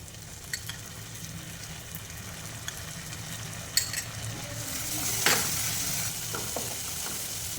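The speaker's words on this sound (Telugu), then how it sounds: "ఇప్పుడు ఇందులో మనం 2 స్పూన్స్ సోయా సాస్ని యాడ్ చేద్దాం" Egg fried rice hisses in a pan after soy sauce goes in, a steady close sizzle broken by a few scraping stirs and a brief louder burst midway, with no talking.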